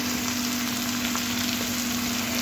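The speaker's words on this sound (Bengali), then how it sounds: "কাঁচা গন্ধ যাওয়া অবধি টমেটোটা খুব ভালো করে কষতে হবে" Tomatoes fry in hot oil with turmeric for a parshe fish curry, giving a steady close sizzle and soft bubbling that runs unbroken.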